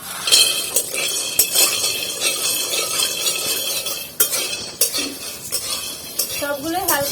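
Peanuts roasting in a pan rattle and scrape under a stirring utensil, with repeated metallic clinks and a faint sizzle, close and busy throughout.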